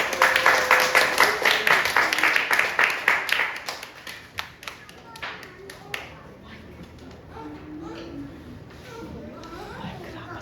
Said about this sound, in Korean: 목사님 나오실 때 여러분 박수로 환영해 주시면 감사하겠습니다